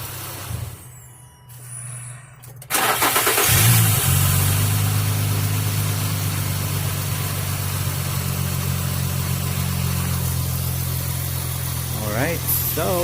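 Infiniti G35X with a camshaft position sensor bank 1 fault is restarted from outside, then idles steadily, a loud low engine hum with a brief hiss after the start.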